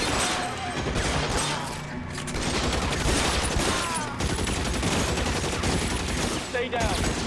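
Tommy gun fire in the video game L.A. Noire, loud continuous automatic bursts rattling through a shootout with brief gaps, and voices talking amid the shooting.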